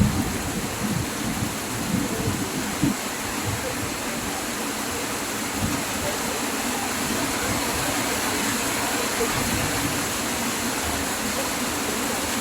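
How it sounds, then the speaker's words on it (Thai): A summer thunderstorm in Nong Sung, Mukdahan, Thailand: steady heavy rain hisses continuously with low rumbling underneath, no speech. "ตอนนี้ก็พายุฤดูร้อนจริงๆ"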